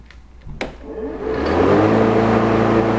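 A STIHL RMA 235 cordless lawn mower motor starts up in eco mode and quickly spins up to a steady, loud whirring hum that holds for the rest of the moment.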